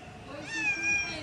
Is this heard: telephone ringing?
no